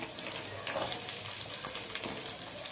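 Sliced small shallots sizzle and crackle in hot oil in a pan for Chettinad mutton chukka, a dense, continuous frying hiss with no talking.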